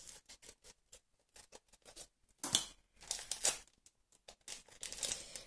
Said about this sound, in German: Ich mach die Packs hier jetzt mit der Schere auf